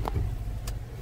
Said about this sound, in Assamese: আহি আছে গাড়ী, আহি আছে